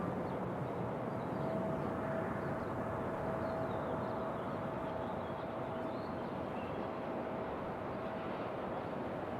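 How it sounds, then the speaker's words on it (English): A Republic Airways jet arriving from Chicago at Raleigh-Durham International Airport produces a steady, broadband engine roar that stays constant and fairly distant throughout, with a faint tonal whine layered on top. "Republic Airways coming in from Chicago"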